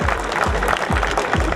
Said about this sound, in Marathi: संदीप पाटील साठी जोरदार टाळ्या वाजवायचे मित्रांनो